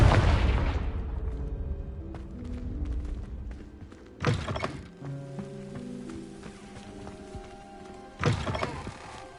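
Confringo blast spell in the video game Hogwarts Legacy, a deep booming impact at the start followed by a low game soundscape, with two further bright bursts a few seconds apart.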